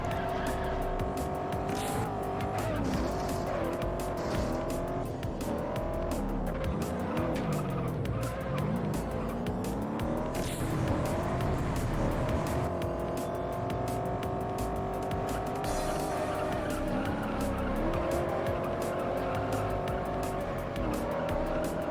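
Racing engines roar continuously as tires squeal and skid through turns in the video game Juiced, a constant loud blend of revving and screeching with no pauses.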